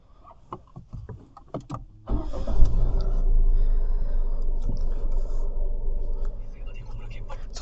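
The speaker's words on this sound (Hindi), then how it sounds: "let's just start the vehicle" A 2022 Tata Punch manual car engine starts after a few quiet clicks and rustles, cranking into a steady low idle rumble that continues loud and close.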